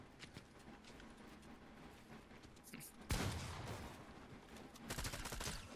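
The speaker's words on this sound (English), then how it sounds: "Using the burst SMG." Burst SMG fire crackles in a Fortnite 2v2 match. Rapid clustered shots and clatter sit under busy game noise, with a louder flurry partway through.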